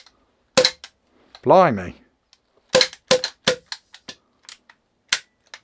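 A CZ SP-01 Shadow airsoft gas pistol firing a string of sharp, close cracks in irregular succession, with someone talking briefly between shots.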